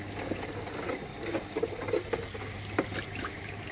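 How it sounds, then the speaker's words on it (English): Water trickles and splashes softly as a pump drains a small goldfish pond, with a few brief, gentle spatters over a faint continuous background. "we're using it to pump the water out of that."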